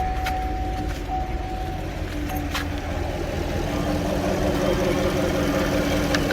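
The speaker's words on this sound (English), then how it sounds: "Start the vehicle." A 2015 Chevy Camaro engine runs at a steady idle, a continuous low rumble with a faint whine, close and even throughout without talk.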